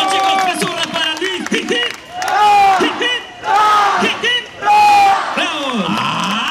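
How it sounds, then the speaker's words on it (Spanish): Festival crowd at a live convention stage show in Lima erupts in loud cheering, whoops and shouts that swell in repeated waves, with a few bursts of clapping mixed in and voices calling out over the din. "¡Aplauso a nuestra pregunta número 4!"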